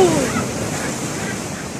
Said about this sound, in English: the waves here are hitting so crazy against the rocks